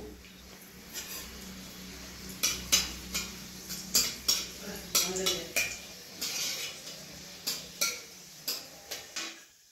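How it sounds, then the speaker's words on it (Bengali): Dried red chillies, chopped and frying in hot oil in a wok, bring a soft background sizzle under a rapid series of spatula clinks and scrapes against the metal, close and fairly busy. "আমি গরম তেলে দুটো শুকনো লঙ্কা কুচি করে দিয়ে দিচ্ছি"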